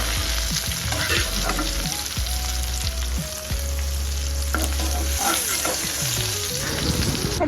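Vegetable fritters frying in a pan while khichuri is made for a Radhashtami festival meal, giving a loud, steady sizzle with stirring scrapes and clinks throughout, no talk over it.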